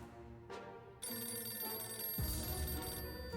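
A shelter telephone in the video game 60 Seconds rings with a bright, sustained electronic bell tone, fairly quiet and alone, swelling after a brief start and continuing steadily.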